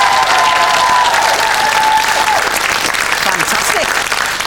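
Studio audience on a quiz show bursts into loud, sustained clapping that fills the room for several seconds, with a brief tone at the start.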